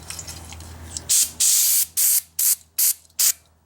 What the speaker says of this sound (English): Now we're going to use a little brake clean.